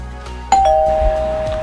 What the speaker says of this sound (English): I just heard the doorbell myself.